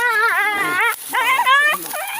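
A dog whimpers and yelps in high, wavering cries while stuck in a buffalo's horns outdoors, close and loud, in broken bursts.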